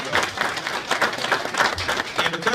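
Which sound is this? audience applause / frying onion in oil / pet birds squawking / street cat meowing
audience applause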